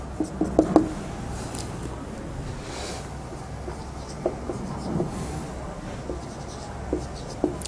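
Pen writing on paper, close and quiet, with soft scratchy strokes and a few light taps in irregular bursts over a faint background hum.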